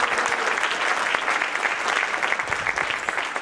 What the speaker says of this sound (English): let's give a warm round of applause for Delegate Carrie Delaney.